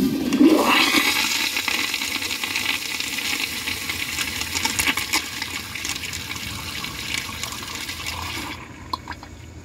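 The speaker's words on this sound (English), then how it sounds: "That's the longest flush I've ever seen on a pressure assist toilet" A Kohler Highline Pressure Lite pressure-assist toilet flushes in one long, loud, steady rushing surge of water that holds for about eight seconds before cutting off sharply, followed by quieter trickling and refill sounds.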